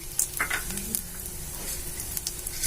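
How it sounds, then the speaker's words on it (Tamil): Mustard seeds, urad dal and dried red chilli fry in hot oil for an idli upma tempering, giving a close, steady sizzle with sharp crackles and pops and no voices. "கடுகு உளுத்தம்பருப்பு சேர்த்துக்கிறோம். காஞ்ச மிளகாய் ஆட் பண்றேன்."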